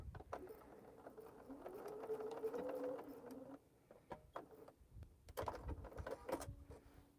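A sewing machine backstitches through a tote bag, its motor whirring steadily for a few seconds, then pausing with small clicks before running again in short bursts, close by and moderately loud.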